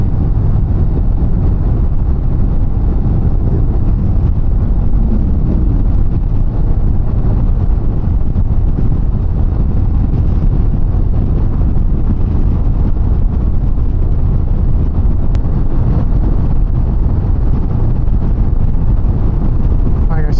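Steady, loud wind roar buffets the microphone throughout while riding a Harley-Davidson CVO motorcycle at speed; the engine is mostly buried under the constant rushing noise.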